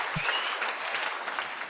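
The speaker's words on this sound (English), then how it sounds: "Please give her a round of applause." Audience applause at a longevity economy talk, a brief burst of many hands clapping at moderate loudness that fades slightly, with a faint voice at the start.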